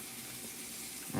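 A dog laps water from a bowl, a steady wet splashing and slurping texture at moderate distance, ending with a brief louder burst.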